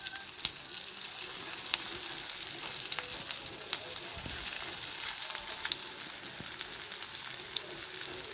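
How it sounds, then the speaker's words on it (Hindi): Vegetables for a dhoka dish fry in a pan with a continuous moderate sizzle and occasional small pops and ticks, with no one speaking. "तो इधर इसको फ्राई कर लिया जा रहा है।"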